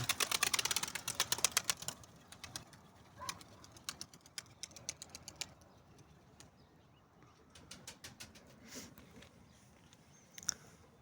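Pigeons return into their loft, opening with a burst of rapid fluttering taps, then quieter scattered shuffles and soft low coos from the birds settling inside.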